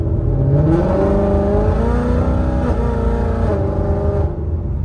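Ford Mustang fitted with a Corsa Xtreme exhaust and catless long tube headers, heard from inside the car: a loud, steady engine drone with rising revs and a brief shift midway, running continuously without talk.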